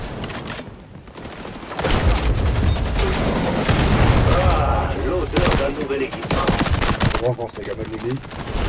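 Gunfire from the shooter game XDefiant rattles out in dense, loud bursts of rapid shots that keep going almost without a break, with someone talking excitedly in French over the shooting.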